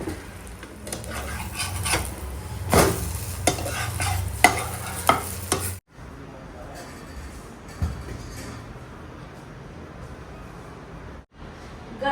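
Ready-made parathas frying in a little oil in a home kitchen, with clattering pan and utensil scrapes and stirring over a soft sizzle, loud at first and then quieter, with a few sharp knocks.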